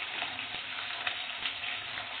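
Garlic cloves and small shallots fry in hot oil in a pan, giving a steady, close, fairly loud crackling sizzle that runs unbroken through the whole short stretch with no talk.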